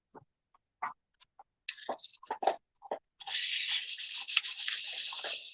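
Carving knife being sharpened: a few short scattered scrapes, then a long steady rasping stroke of blade against stone, close and fairly loud with no talking.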